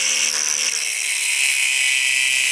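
A Milwaukee M18 cordless tool cuts through metal with a close, continuous high-pitched hiss and whine that holds steady for a few seconds without pause.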